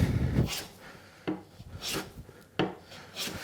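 A hand plane shaving wood in short passes near the top of a board for a display shelf, three close, rhythmic rasping strokes, each starting with a sharp bite and trailing off into a soft scrape.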